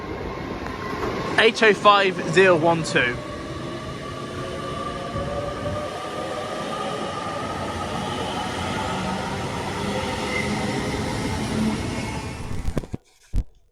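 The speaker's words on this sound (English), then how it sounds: "leaving now is the 10:44 Avanti West Coast Avero service from Crewe to London Euston" An Avanti West Coast train pulls out of Crewe bound for London Euston, a steady rolling rumble with a slowly rising electric whine building over several seconds after a brief burst of nearby talk.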